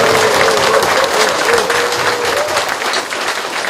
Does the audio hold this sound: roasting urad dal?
no